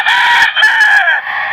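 A fighting rooster gives one loud, close crow of about a second and a half, a bright drawn-out call with a brief break before it trails off, with no other sound.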